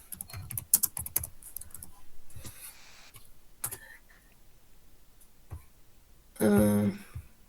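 Typing a search query on a computer keyboard: a quick cluster of close key clicks at first, then a few sparse taps, with a louder burst of clicking near the end and no talk.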